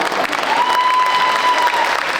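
Steady, dense audience clapping fills the hall for a little girl's dance at a Telugu community Sankranti celebration in North Texas, sustained and even throughout with a faint held tone over it.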